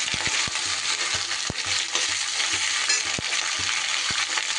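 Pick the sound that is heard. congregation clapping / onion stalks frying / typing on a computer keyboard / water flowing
onion stalks frying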